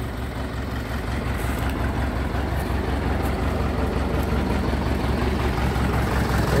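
A UTB 650 tractor engine idles with a deep, steady diesel rumble, close and even throughout, with no voices.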